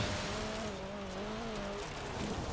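A race car engine in a racing video game held at full throttle, a steady droning whine with tire squeal, fairly quiet and continuous, dropping off slightly toward the end.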